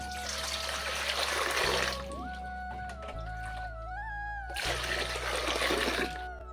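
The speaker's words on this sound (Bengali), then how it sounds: "এখন হচ্ছে ফল ধোবো তাই গামলায় জল নিচ্ছি" Water runs into a basin for washing fruit, a steady broadband rush that pauses briefly midway and resumes, with a low hum underneath and no talking.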